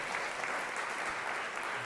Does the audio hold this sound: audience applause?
yes